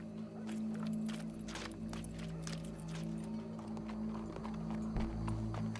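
A horse's hooves clip-clop at an outdoor show with a crowd gathered, a quiet irregular clopping over a low steady hum, fairly distant.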